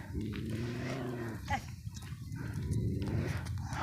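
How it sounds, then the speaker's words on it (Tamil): Goats grazing on a hillside village slope, with bleating livestock calls and rustling nearby, mixed with people talking close by. "ஆடு மேய்க்கிறாங்க"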